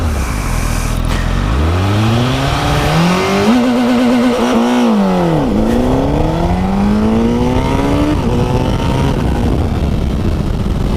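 A Honda CBR 1000RR sportbike launches with launch control, the engine held at a loud steady rev, then roaring up through rising, falling gear pulls as it accelerates hard, close and continuous.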